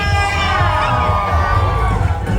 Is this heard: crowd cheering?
yes